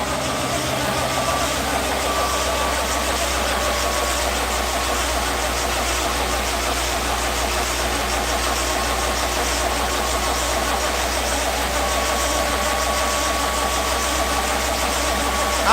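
An old 1955 Ford Pop engine, first run after more than ten years, drones steadily at a loud continuous idle with a rough, even rumble and no breaks.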